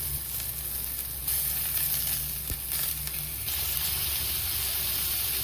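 Boerewors sausage cut into pieces sizzles and spits steadily in a hot pan, a close, continuous frying hiss with brief stirring shifts and no talk.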